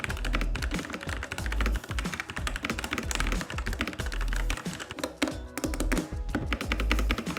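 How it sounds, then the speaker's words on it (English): Steady, fast typing on a cheap, lightweight plastic mechanical keyboard with red switches, close-up rapid clacks and thocky key bottoming with brief pauses, no voices. "let's go ahead and see how it even sounds like first"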